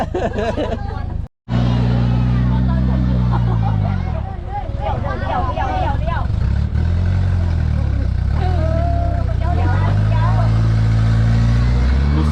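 A car idling and labouring under a heavy load of passengers, its engine droning low and steady throughout while several people chatter and call out over it, close and loud.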